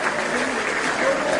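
A live audience claps steadily throughout at a Hindi comedy poetry show, a dense, even wash of hands at fairly close range with no pauses.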